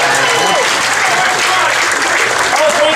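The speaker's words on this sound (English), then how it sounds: "Just clap for a second" An audience at a stand-up comedy show claps for a few seconds in a dense, loud, even burst of applause that fills the whole moment.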